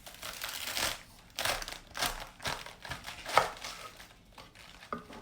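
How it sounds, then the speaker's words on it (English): A knife chops through lettuce for a grilled chicken Caesar salad, making a series of crisp, rhythmic cutting strokes close up, with no talk. "So now I'm gonna start cutting the lettuce."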